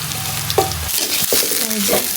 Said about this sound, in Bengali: চাল ভাজা হচ্ছে